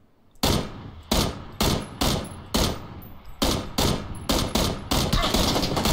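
Gunfire in PlayerUnknown's Battlegrounds: a series of loud, sharp shots at roughly half-second intervals, each with a short echoing tail, becoming faster near the end.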